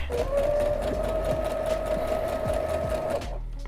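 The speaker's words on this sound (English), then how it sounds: "while I was sewing those, what felt like kilometers of hem" A sewing machine runs steadily, stitching a long fabric hem on a cotton garment mockup, its motor hum and rapid needle clatter loud and close for a few seconds before stopping.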